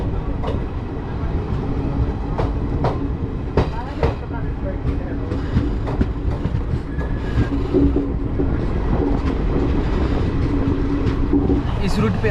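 Steady rumble inside a moving Shaktipunj Express passenger carriage in India, with rhythmic clickety-clack of wheels over rail joints and faint background voices throughout.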